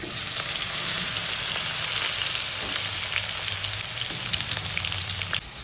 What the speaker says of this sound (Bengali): ভেজে নেব সজনে ডাঁটাগুলো।